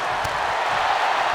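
Arena crowd in the WWE 2K25 wrestling video game gives off a steady, loud roar of cheering, a continuous wash of noise with no breaks, heard alone without commentary.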